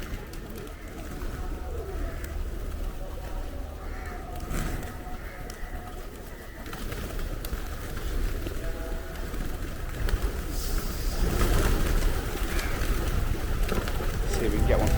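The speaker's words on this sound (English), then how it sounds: "it turns out we're feeding the pigeons." Pigeons coo softly near someone feeding them rice and seeds in Kochi, India. The cooing sits under a steady outdoor background hum, and a person speaks at times.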